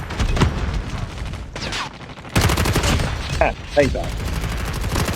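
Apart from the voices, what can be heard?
gunfire in video game Call of Duty Mobile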